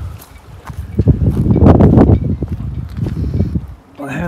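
Wind buffets the microphone at Levington marina on the River Orwell near Ipswich, a constant close rumbling roar with gusty surges.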